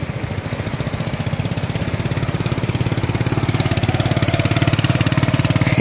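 A motorbike engine idles with a steady, rapid putter up close, over a constant wash of rain on Marine Drive road at Inani, Cox's Bazar.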